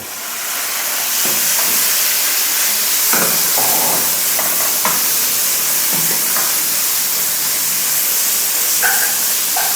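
Thinly sliced pork belly stir-frying with garlic in a hot pan, a loud continuous sizzling hiss with occasional scraping clatters of the spatula.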